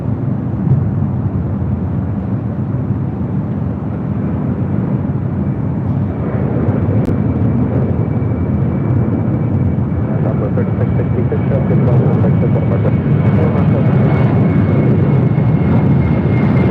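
An airplane at LAX airport roars continuously, a loud, broad engine rumble sustained throughout, with a faint steady whine rising above it partway through.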